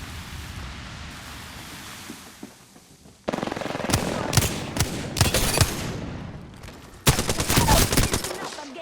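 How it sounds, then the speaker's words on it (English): Gunfire erupts in the online shooter game Apex Legends, with rapid automatic bursts and single shots. The firing is loud and close and comes in dense clusters after a quieter stretch. "Listen up, I'm getting shot at."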